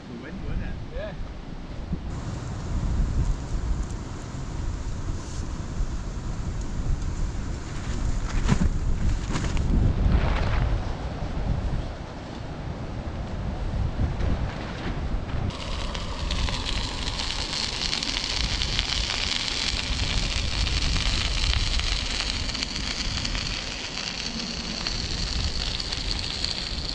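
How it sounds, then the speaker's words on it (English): Wind gusts across a moorland wild camp, a steady blustery roar buffeting the microphone throughout, growing harsher and breathier in the latter half with no clear speech on top. "it was just the wind, wasn't it?"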